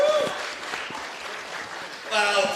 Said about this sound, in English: Ladies and gentlemen, a quick round of applause for Lachlan Carpenter.